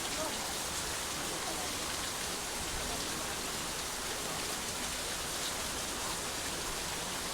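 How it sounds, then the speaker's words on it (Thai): Steady rain pours down outdoors in the Isan countryside, a dense continuous hiss of drops on surfaces that stays even and loud throughout, with no break. "ฝนมันไหลมาเนี่ย เบื้องข้างหลังมาเห็นอยู่ป่ะปุ๊บ เสียงฝนอย่างงี้นี่บอกเสียงฝน"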